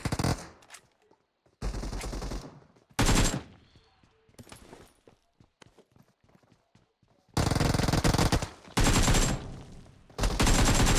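Bursts of automatic gunfire in a battle royale video game match, several loud sustained volleys separated by quieter stretches of scattered shots.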